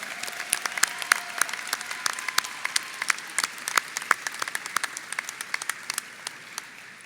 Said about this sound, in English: Seniors, please join me in giving a round of applause to your family and friends that have